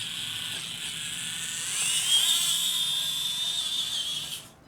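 SCX24 RC squarebody truck with a 66-turn motor running and driving, a close high-pitched electric motor whine that rises as it speeds up, holds steady, then cuts off.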